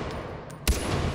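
A single sharp gunshot for a headshot in Far Cry 4, one loud close crack cutting through a low, steady game ambience.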